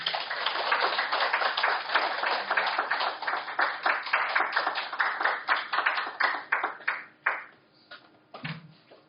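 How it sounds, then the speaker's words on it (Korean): Audience clapping at a book launch event in Incheon, a dense round of many hands that holds steady for several seconds, then thins to scattered claps and fades out near the end. "뜨거운 박수로 모시도록 하겠습니다"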